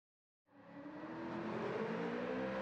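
Year-2000 Chevrolet Corvette Z06 C5 in Gran Turismo 7 at Suzuka, its engine rising from silence into a sustained rough roar with tire squeal as it drifts, steady and fairly loud to the end.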